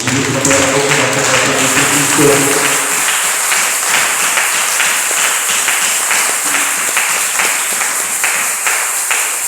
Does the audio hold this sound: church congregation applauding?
yes